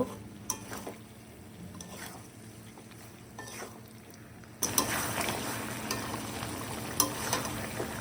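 Potatoes and liver sauté in a hot pan with steady sizzling and occasional scraping stirs, the frying growing louder and more vigorous partway through.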